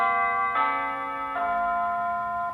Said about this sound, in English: that is my school bell